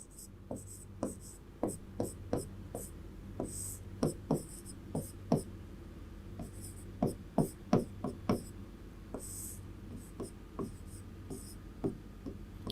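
Writing on a board during a surface chemistry lecture gives a steady run of quick taps and strokes, close and clear, repeating in irregular clusters throughout.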